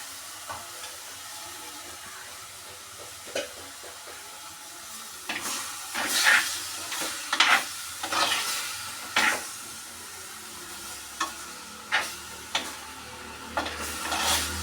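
Fish dropped into a pan of masala made from onion, garlic, ginger, green chili, tomato and spice powder, giving a steady low sizzle with a series of sharper spatters and stirring scrapes partway through, close by, no talk.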